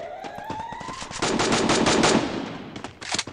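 Rapid automatic gunfire from the Free Fire battle-royale game bursts out in loud, dense volleys, with a rising electronic tone at the start and a final short burst after a brief lull.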